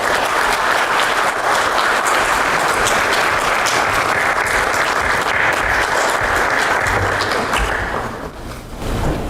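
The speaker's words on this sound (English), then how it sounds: "Please welcome him with a warm round of applause." Loud, dense applause from a large audience at a business summit welcoming a state minister, sustained evenly for about eight seconds before tapering off at the end.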